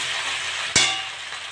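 Taro stolons stir-fry with shrimp in a pan, giving a steady hiss of frying broken by one sharp scrape or clack midway; no talking.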